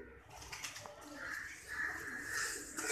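Soft, low pigeon cooing close by, a few muffled calls against quiet background noise.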